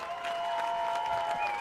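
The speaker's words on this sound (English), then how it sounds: "the Hudson fans on their feet cheering on the defense" Hudson football fans cheer and applaud from the stands during a high school game, a sustained distant crowd roar with a steady tone running through it.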